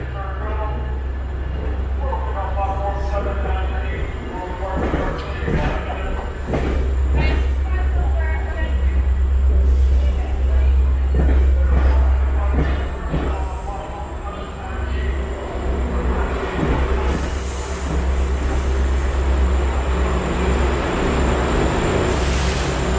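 A very long freight train rolls past close by for over twenty seconds, a steady heavy rumble with repeated clanks and squeals from the cars, and people talk over it at times.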